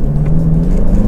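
A Toyota Fortuner 2.4 or 2.8 fitted with an equal-length header, its engine giving a loud, close, steady low rumble held at revs for about a second, with no talking.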